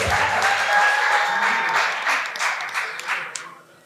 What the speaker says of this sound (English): Guys, let's clap for Feli as she takes the award.